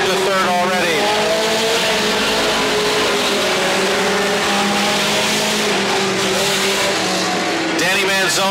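Mini stock race cars roar around the Petaluma Speedway oval, a dense, sustained engine drone with a pack of cars close together, rising pitch sweeps as cars pass, while an announcer talks over the din.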